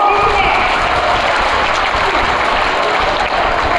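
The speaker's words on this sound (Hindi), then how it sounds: "जोरदार तालियां बजाते रहो" An audience applauds loudly and continuously at close range, a dense and steady wash of clapping with some cheering mixed in.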